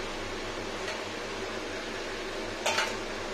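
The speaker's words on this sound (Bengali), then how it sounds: "ঢাকা দিতে হবে। ঢেকে দিই" A lid set onto a cooking pot of simmering okra and tamarind curry on low heat gives one short metallic clank near the end, over a steady low kitchen hum.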